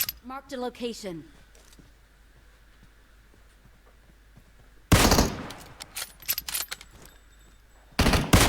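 Gunfire in PUBG Mobile crackles out in two loud bursts, a long volley of rapid shots followed later by a shorter one, with a voice talking briefly at the start.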